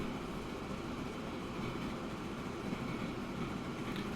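Continuous rolling rumble of a train at top speed in Transport Fever 2, a steady dense rail roar at even loudness with no voices.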